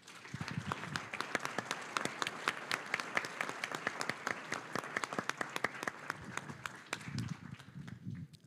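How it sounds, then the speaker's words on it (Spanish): Energetic audience applause at an international conference panel on energy transition, with crisp, closely spaced claps from many hands that swell quickly, hold steady for several seconds, then thin out near the end. "un fuerte aplauso para ellos"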